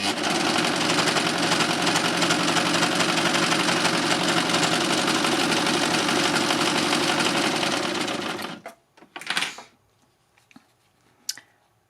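A LUCIE overlocker by Success races steadily through lightweight cotton, a loud, dense mechanical whir held for about eight seconds before stopping, followed by a few soft handling clicks and rustles.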